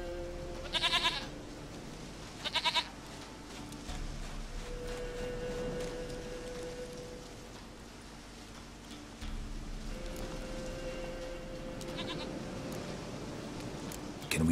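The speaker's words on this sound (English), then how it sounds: "Goat of mine, dearest, sweetest goat." Goat in The Witcher 3 video game bleating in two short, close cries near the start and another later, over quiet ambient rain and game background sounds.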